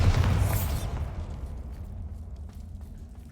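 The Bombarda blasting spell explodes in a Harry Potter video game: one heavy boom at the start with a brief crackling burst, then a low rumble that slowly fades away.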